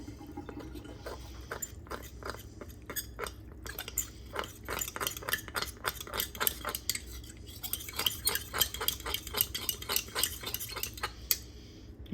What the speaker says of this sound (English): I'm just gonna add 2 tablespoons of water and mix it together